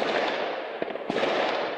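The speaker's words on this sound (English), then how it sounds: "gunfire and explosions could be heard" Rapid crackling bursts of gunfire and explosions during an overnight police raid in Saint-Denis, a Paris suburb, with a couple of sharper sudden blasts standing out against a dense, continuous rattle.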